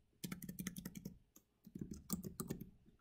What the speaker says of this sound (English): you can type in your name, use capital letters.